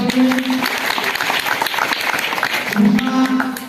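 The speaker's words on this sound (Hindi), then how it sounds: "जोड़ा तालियां गंगा हाउस के लिए" Students at a school general knowledge quiz applaud for Ganga House, a dense continuous round of clapping in a room, close and loud, with faint tones humming beneath.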